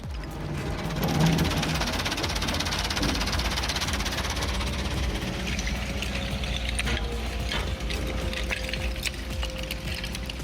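An SBR3 shredder powered by a Liebherr 510 engine chews through wet, sticky construction debris, giving a loud continuous mechanical roar with grinding, knocking and rattling and no voices.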